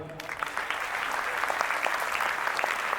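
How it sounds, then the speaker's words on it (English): An audience at a school Independence Day program claps to welcome the chief guest, a dense, steady burst of applause from many hands that fills the hall from start to finish. "Let's all clap for him."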